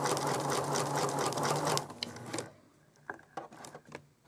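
A sewing machine stitches fabric in a free-motion practice drill, its motor running in a steady loud burst for about two seconds, then stopping, followed by a few short, quieter stitching spurts and clicks.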